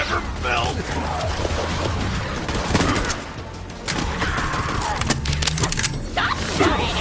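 Rapid video game gunfire from Borderlands 3 fills the scene with dense bursts and thumps, loud and continuous, while a voice talks over the shooting.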